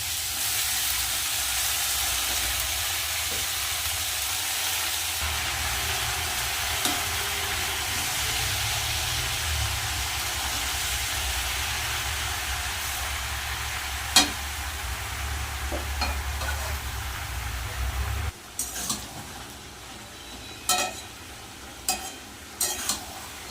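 Chopped spinach going into a pan of lightly fried vegetables with green chillies, a steady close sizzle and hiss running for most of the time, then dropping away, with scattered clicks and spoon scrapes near the end.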